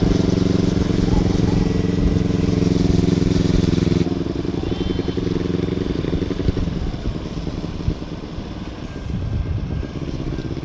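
A Vespa scooter ride through rain in Batangas, its engine a steady close drone with road and wind noise throughout, while people talk and call out over it.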